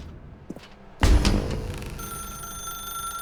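In The Stanley Parable video game, a telephone starts ringing after a sharp burst, giving a steady electronic ring that continues under faint background ambience.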